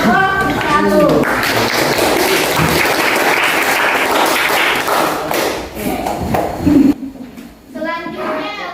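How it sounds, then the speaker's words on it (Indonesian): Classroom applause for a student group, a loud burst of clapping mixed with thumps and children's voices, fading out before students begin talking again. "kita beri tepuk tangan dulu untuk kelompok 1"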